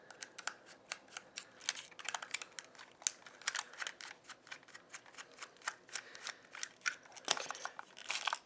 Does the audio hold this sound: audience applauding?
no